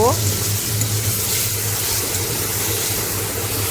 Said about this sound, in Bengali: এবার মশলাটা ঢেলে কষে নিয়ে